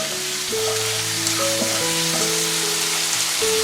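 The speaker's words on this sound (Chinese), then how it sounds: "咱切好的西红柿也倒进去，接着炒出西红柿汁， 把豆芽也加进去" Tomatoes and bean sprouts sizzle while being stir-fried in a wok, a steady close frying hiss running the whole time with sustained tones over it and no talking.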